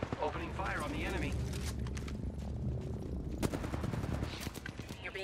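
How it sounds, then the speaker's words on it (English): Rapid automatic gunfire crackles through an Apex Legends firefight, with repeated sharp shots and a louder burst later on, while voices talk over the action. "Opening fire on the enemy."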